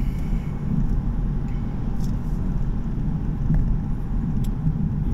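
Steady low engine rumble from a 2016 BMW M235i coupe in bumper-to-bumper traffic, a continuous droning hum heard from inside the car, fairly loud and even throughout with no talk.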